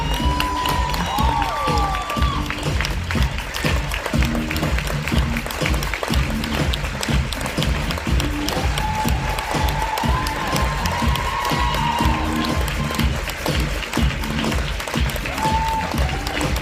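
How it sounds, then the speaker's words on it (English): Sustained audience applause with scattered cheers and whoops as a special guest, a successful weight-loss client, is welcomed to the stage, steady and full throughout. "Thank you for all the applause"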